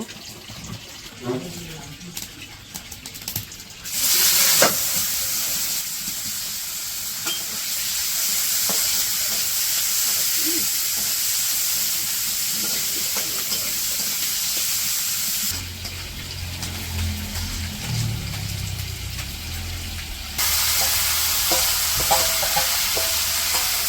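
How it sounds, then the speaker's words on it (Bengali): Garlic, onion and green chilies fry in oil in a village kitchen, making a loud, steady sizzling hiss that runs throughout, with occasional knocks from handling the pan. "ওই যে রসুন পেঁয়াজ ভাজা হয়ে গেছে"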